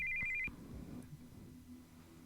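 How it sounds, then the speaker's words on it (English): Incoming-call ringtone from a cell phone in Steins;Gate 0, a brief electronic trill for about half a second that stops abruptly, followed by low rumbling background noise. "we heard the sound of an incoming call on a cell phone."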